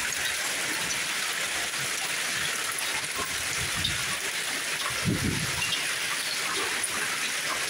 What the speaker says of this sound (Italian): Sono ormai 6-7 minuti che grandina.